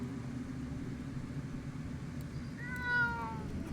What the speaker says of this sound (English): Oh, my cat's here now.